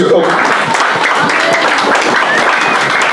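Church congregation applauds and cheers for the pastor, a loud, continuous wash of many hands clapping with voices mixed in throughout.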